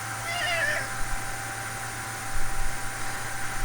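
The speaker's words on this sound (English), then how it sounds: "my cat wants to say hi." A very large pet cat meows in a short, rising-falling call early on, fairly close and clear over a steady background hum, followed by quieter rustling.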